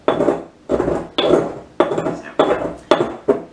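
Dried herbs and resins for an incense blend are ground in a hard vessel, producing seven loud, close scraping and clinking strokes in a steady rhythm, each lasting about half a second with brief pauses between.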